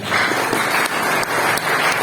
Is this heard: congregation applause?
yes